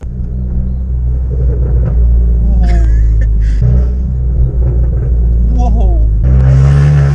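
An Abarth 500 with a straight-pipe decat Bombardone exhaust revs with a deep, loud, rumbling note and rising blips, with people talking and exclaiming over the engine throughout.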